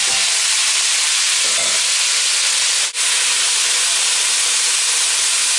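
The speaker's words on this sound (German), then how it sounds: "Und jetzt kommt das Gemüse rein ins Fett." Vegetables frying in hot fat make a loud, steady, broadband sizzle with an unbroken hiss, interrupted only by one brief dip.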